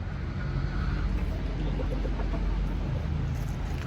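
Chickens cluck softly in a yard amid a steady low outdoor rumble, the calls blending into continuous background noise with no talking.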